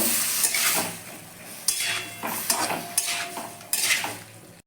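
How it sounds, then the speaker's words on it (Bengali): A spatula stirs tomato chutney cooking in a pan, with a run of loud, close scraping strokes and clinks over a soft sizzle and no voices. "দিয়ে ভালো করে একটু নাড়াচাড়া করে নেব"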